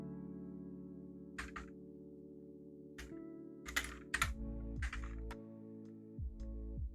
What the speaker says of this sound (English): I wonder if it's just gonna pick up my keyboard more then